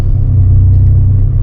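A first-generation Toyota Tacoma truck driving, with a loud, steady low engine and road rumble from inside the cab, droning evenly without any talk.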